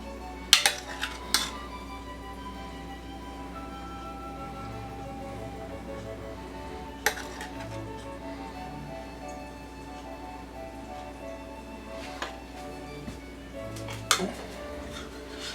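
Chicken korma being served from a pot, with a few sharp clinks of metal utensils against cookware at intervals over a steady low kitchen hum, fairly close and moderately quiet.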